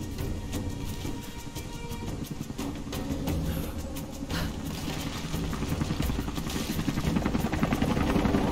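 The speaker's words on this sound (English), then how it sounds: "Heli chopper, don't like." Helicopter in the video game Rise of the Tomb Raider, a steady rotor and engine drone that swells slightly louder toward the end, heard alone over game ambience.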